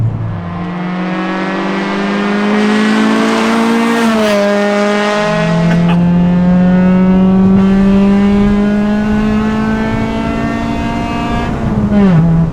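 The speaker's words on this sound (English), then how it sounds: "I'm having to yell because the exhaust is so damn loud. It's a spoon muffler." A Honda Integra Type R with a Spoon muffler roars loudly up through the revs, its exhaust note climbing, shifting and climbing again in long sustained pulls that stay close and dominant throughout.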